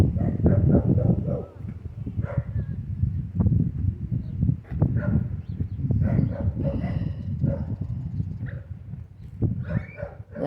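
A puppy whimpers and makes soft baby-like cries after being carried, dense vocal whines and grunts close to the mic throughout, with occasional muffled human voices in the background.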